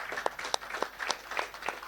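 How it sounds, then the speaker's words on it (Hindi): Audience applause at a GATE rankers' meet honouring an IOCL production engineer, a steady wash of many hands clapping with a few sharper individual claps standing out, moderately loud and continuous for the short span. "Come on everyone, put your hands together."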